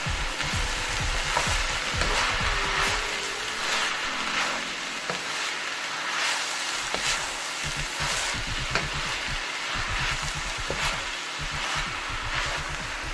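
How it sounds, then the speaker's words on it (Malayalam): Mustard seeds crackle in two tablespoons of hot oil for an onion stalk thoran, a dense run of sharp pops and spits over continuous close frying sizzle, with occasional stirring. "ഇതിലേക്ക് 2 ടേബിൾ സ്പൂൺ എണ്ണയാണ് കടുക് പൊട്ടിക്കാൻ വേണ്ടി ഒഴിച്ചത്"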